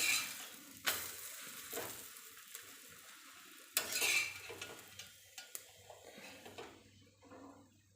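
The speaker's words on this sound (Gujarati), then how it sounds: "આ રીતે બંને બાજુ પલટાવીને થેપલાને શેકી લેવાનું" Methi thepla flatbread roasting on a hot griddle, with soft sizzling and scattered clinks of a spatula and pan as the bread is flipped, a few sharper knocks standing out against quiet crackle.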